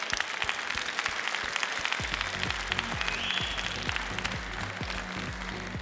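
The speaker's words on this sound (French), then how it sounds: "je pense qu'elle mérite vos plus chaleureux applaudissements" Audience applause at a Jersey cattle show, dense clapping filling the hall for a prize-winning cow, with a few low thumps toward the end as a steady crowd noise persists.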